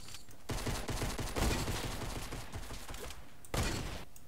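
Rapid gunfire bursts in the Fortnite battle royale video game, a dense, steady volley of shots lasting a few seconds with a brief gap, then a louder burst near the end, with no talk over it.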